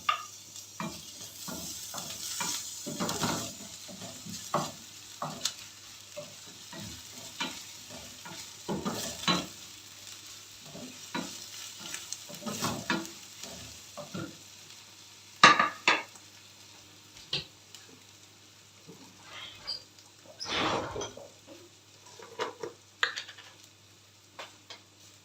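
Chopped onion fries in a pan with crushed garlic and ginger added, bursts of sizzling broken up by repeated stirring scrapes and occasional utensil clinks against the pot.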